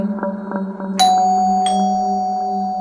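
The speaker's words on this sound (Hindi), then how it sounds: "तभी डोरबेल बजी" A doorbell rings twice in the morning, two bright chimes about two-thirds of a second apart, each ringing on and fading slowly over a low steady hum.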